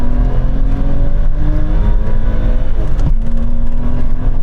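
BMW M5 cars pulling hard in second gear from a rolling start in a drag race, a loud, close engine roar climbing steadily in pitch with a brief shift-like break midway.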